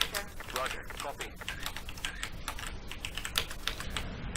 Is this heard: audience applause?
no